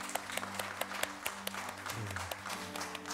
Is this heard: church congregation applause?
yes